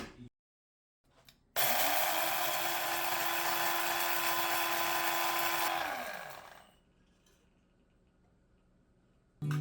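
An electric grinder whirs loudly for about five seconds, pulverising whole spices such as dried fenugreek, black and green cardamom, and cloves, then winds down to a faint hum. Short clicks come before and after the run.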